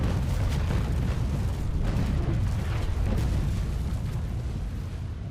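Heavy, continuous booming roar from a game's ship cannons, with dense rumbling low end and repeated bursts blending into one sustained barrage, loud and close.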